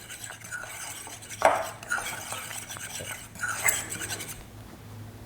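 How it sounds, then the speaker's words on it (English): A fork lightly whisks dry pancake ingredients in a bowl, giving quiet, irregular scraping and clinking taps against the dish, close by and with no talk. "I'm just whisking it lightly with a fork."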